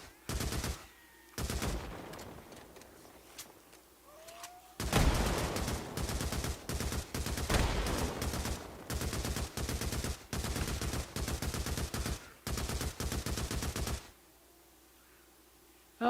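Gunfire from a shotgun in a horde-assault video game, with repeated loud bursts of shots in clusters across the span and brief quiet gaps between volleys, no talk over it.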